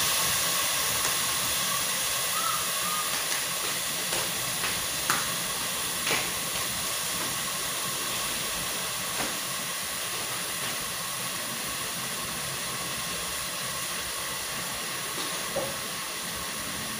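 Pork searing in a hot pot without oil for sinigang, a continuous loud hissing sizzle holding steady throughout with occasional faint pops and clicks, no voices.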